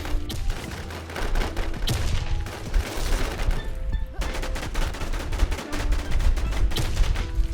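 Gunfire in the video game Warz: rapid bursts of automatic weapon fire, loud and close, rattling almost without pause over a dense battle background.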